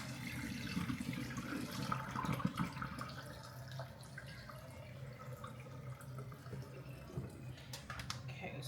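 Water drains and splashes out of a container of washed goat meat in a home kitchen, a soft running and dripping sound close by, with faint voice sounds in the background.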